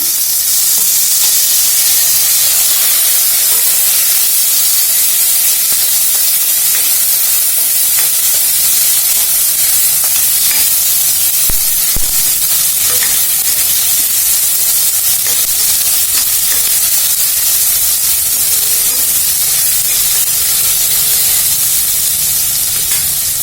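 Curry leaves and tomato sizzle in a hot pan for a rasam, a loud, steady hiss and crackle that runs without a break the whole time, with occasional stirring.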